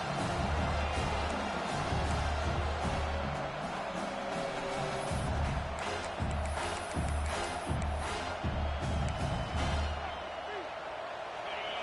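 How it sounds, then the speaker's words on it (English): A football stadium crowd cheers for the defense, a broad, continuous roar with rhythmic thumping and surges throughout, easing slightly toward the end. "this crowd coming to life here, trying to help the defense get a stop"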